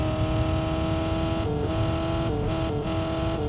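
A Tofaş car's engine revs hard while standing still, a loud steady drone that rises and drops in pitch several times with no passing movement.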